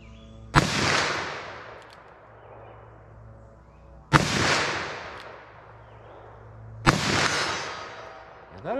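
Three sharp, loud gunshots from a .357 Magnum revolver fired double action with full-power 158-grain ammunition, spaced a few seconds apart, each with a long ringing decay outdoors.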